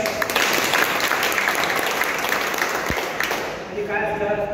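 A crowd claps together at a public gathering in Beed district, broad sustained applause that tapers slightly near the end as a voice begins to speak over it.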